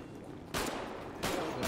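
Gunfire in a GTA roleplay game comes as two sharp, loud bursts of rapid shots about half a second and over a second in, with a quieter lull between them.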